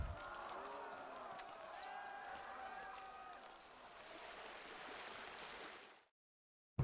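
Horse hooves clopping in a steady run while riding in Kingdom Come Deliverance, a continuous galloping patter under a busy game soundscape with a faint voice, cutting off abruptly near the end.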